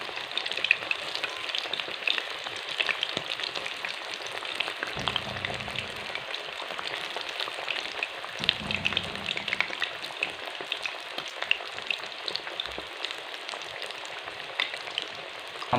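Fish sizzles steadily in hot oil for a crispy fish fry, a close, continuous crackling hiss throughout with a few soft low thumps partway through.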